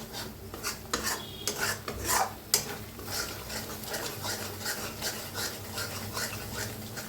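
Masala roasting and sizzling in a pan after yogurt is added for a dhaba-style matki sambar, with steady frying hiss, scraping stir strokes and a few clinks of a spoon against the pan, close up.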